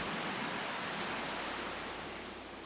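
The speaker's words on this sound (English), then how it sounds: "A downpour is very welcome." Heavy late-summer rain pours down on a garden in a dense, steady hiss that barely changes, a close and continuous downpour with no other sounds.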